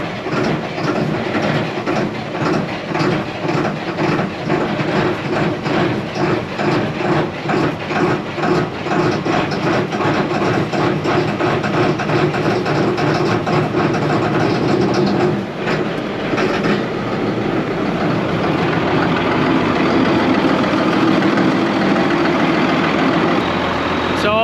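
A diesel engine with glow plugs idles after a cold start at minus 10, a loud, steady, close rumble with a fast rhythmic knock that smooths slightly partway through.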